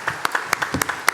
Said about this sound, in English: Let's start by giving a big round of applause to Melissa Maloney of Tech Alliance